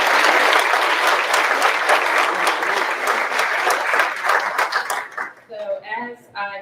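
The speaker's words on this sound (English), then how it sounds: "let's give everybody one more big round of applause" An audience at an employee-of-the-year awards ceremony breaks into loud, sustained applause of many hands clapping, which fades out near the end as a few voices and a child's chatter come through.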